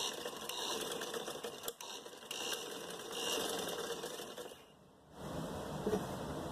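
A sewing machine running a long straight seam on a puff sleeve: close, fast steady mechanical chatter with a brief stop partway and another short pause near the end before it resumes.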